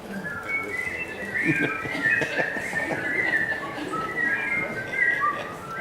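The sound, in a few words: audience whistling the Andy Griffith Show opening tune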